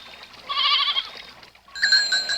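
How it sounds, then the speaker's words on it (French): Several goats in a mountain herd bleat in a cartoon scene, two or three long wavering calls, close and clear, with light background sound between them. "Tu parles d'un troupeau de chèvres?"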